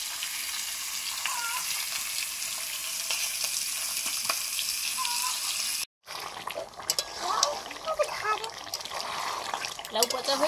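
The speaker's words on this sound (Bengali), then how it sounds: "আমি একটু নেড়ে দেবো।" Chicken curry is stirred as it fries in a pan, with a steady, moderate sizzle and scraping, a brief break partway through, and voices talking in the background.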